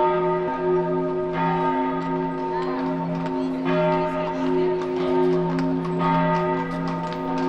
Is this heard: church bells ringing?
yes